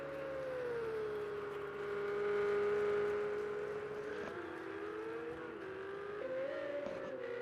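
A Ferrari 488 Challenge race car pulling away from the pits, its engine a sustained tonal whine that swells and shifts pitch as it accelerates, heard at a distance and fairly faint.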